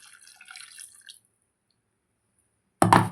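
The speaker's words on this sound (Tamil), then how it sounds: "மிக்ஸி ஜாரில் இருக்கிற தண்ணியை நம்ம இப்போ ஊற்றிக்கலாம்." A brief trickle of water from a mixer jar lands first, then after a pause a short, louder splash pours into a pan of chicken curry.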